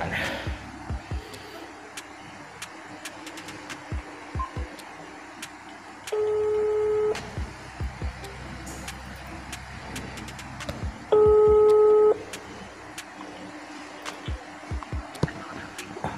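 Two short telephone dialing tones, each lasting about a second, sound apart from each other over a background of clicks, handling noise and low rumble during a phone call.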